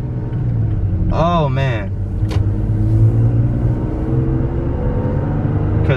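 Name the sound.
Toyota Tacoma truck with OV tune accelerating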